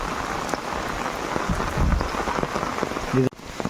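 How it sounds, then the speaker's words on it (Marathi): Heavy rain pours steadily onto surfaces in rural Konkan, a dense hiss of drops that cuts off abruptly near the end. "पाऊस भरपूर पडतोय"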